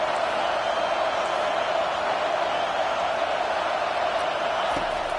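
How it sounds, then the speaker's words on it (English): A stadium crowd in the EA College Football video game roars loudly and continuously, a dense, steady wash of cheering as the home fans get loud to support their defense. "It is getting loud as this crowd tries to help its defense."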